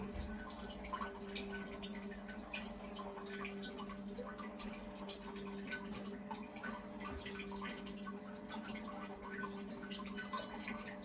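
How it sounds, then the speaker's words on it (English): A Brondell Swash 1400 bidet toilet seat runs its sterilize cycle to clean the nozzles, producing a faint, steady trickle of water with a low hum underneath, continuous and quiet. "And also hit sterilize, which cleans those nozzles"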